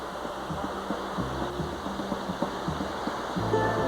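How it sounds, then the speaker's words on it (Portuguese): Water of the Cachoeira do Paredão waterfall cascades down stone steps, a constant, even rushing roar filling the whole clip without pause. "Na Cachoeira do Paredão, elas descem pelas escadarias de pedra."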